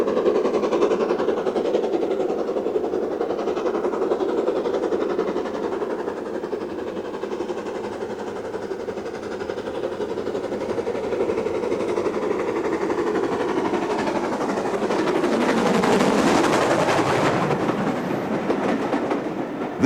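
A BR Standard Class 4 steam locomotive, No. 76031, running on the East Lancashire Railway in summer 1991, heard as a continuous loud rumbling train passage with rhythmic clatter that swells and brightens briefly toward the end.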